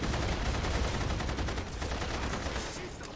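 Gunfire in the video game The Saboteur, a dense, continuous roar of rapid shots, loud and close throughout, fading slightly toward the end, with no clear talk over it.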